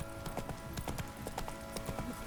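Steady clip-clop of the horse Roach walking in The Witcher 3, a rhythmic run of hoof steps, soft and close, with faint game ambience underneath.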